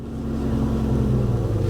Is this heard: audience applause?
no